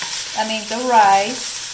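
Rice with beaten eggs is stirred in a hot frying pan, a short scraping stir with a squeaky tonal rasp over a soft sizzle, close by.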